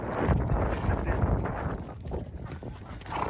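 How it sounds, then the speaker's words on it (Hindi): Horse hooves clip-clop steadily during a ride near the Giza pyramids in Egypt, close and continuous, with broadband outdoor noise and a voice partly under it. "ये देखिए जनाब, ये मेरा घोड़ा है"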